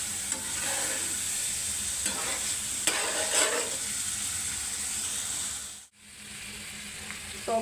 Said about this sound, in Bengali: এখন আমি এগুলাকে দিয়ে দিব, দিয়ে হালকা ভেজে নাড়ব